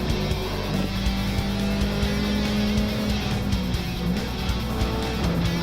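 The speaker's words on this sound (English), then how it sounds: "A turbo whir, holy shit." A racing car in a video game race roars along with a turbo whir, its engine droning steadily with shifting pitch and faint tyre noise throughout.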